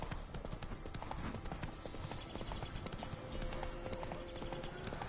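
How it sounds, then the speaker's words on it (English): A horse's hooves clip-clop steadily in The Witcher 3, a brisk, dense rhythm of hoof strikes running throughout. A faint tone enters near the end, and there is no clear talking over the hoofbeats. "The roach came through the trees. Beautiful horse, I can see it."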